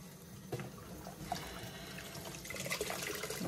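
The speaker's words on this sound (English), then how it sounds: "I'm going to rinse this guy out." A plush toy being rinsed out under a running tap, with steady splashing and trickling water in a sink, fairly close and moderately loud, alone without speech.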